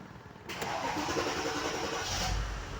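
An old Mercedes-Benz GL 450 with a starter fault cranks briefly and catches, then settles into a steady, loud idle close by.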